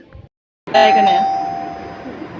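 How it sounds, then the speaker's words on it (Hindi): A newly installed home doorbell chimes once, loud and close, its bright electronic tone ringing out and slowly fading; a short burst of voice comes just before. "यहाँ डोरबेल लग गया है"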